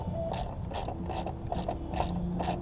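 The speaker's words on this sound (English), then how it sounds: "So this is going to be a 10mm bolt to take off your coolant jug." A ratchet backing out a 10mm bolt on a car's coolant jug, rapid regular clicking pawl strokes in a steady rhythm, close and clear with no speech.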